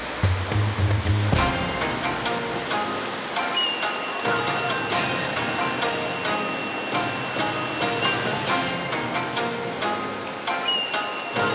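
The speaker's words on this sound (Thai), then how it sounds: "น้ำตก" Haew Narok waterfall at Khao Yai, Thailand, roars as a steady broadband rush of falling water heard up close, with scattered clicks and bumps on top and a brief low thump at the start.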